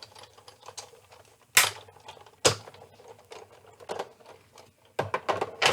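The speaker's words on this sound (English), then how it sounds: "And then we'll be done with the die cutting." A die cutting machine running a big tag die through for a papercraft project, clattering mechanical clicks and a few sharp louder thumps, close up with no speech.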